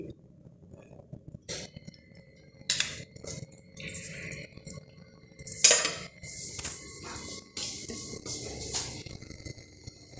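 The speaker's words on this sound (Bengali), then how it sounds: "কড়াই বসিয়ে দিয়েছি বন্ধুরা। দেখো গ্যাসে কড়াই বসে তেল দিয়ে দিয়েছি" A metal kadai is set on a gas stove and oil is poured in, giving a few scattered clanks and clinks of metal cookware against a quiet room.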